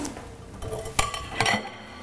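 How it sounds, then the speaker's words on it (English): A spoon stirs a chocolate mixture in a bowl, giving soft close scraping with a few light clinks against the side. No talking. "And you give this a good stir."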